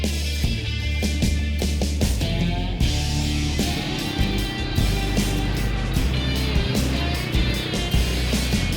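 An ATV engine drones loud and steady while riding trails across the San Rafael Swell near Highway 70, with a low continuous rumble, wind buffeting and occasional bumps throughout.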